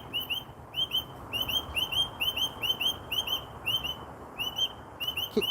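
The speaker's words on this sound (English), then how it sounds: "Incredibly loud birds just trying to speak over me." Loud outdoor birds chirping and whistling in quick repeated bursts of bright high calls, close and continuous over a low background rumble, with no talk.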